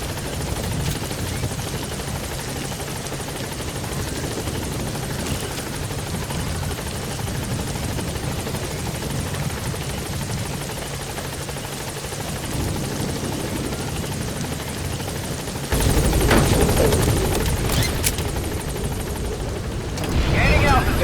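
A helicopter in the video game Metal Gear Solid V drones steadily with a loud rotor rumble that swells louder near the end as it gains altitude.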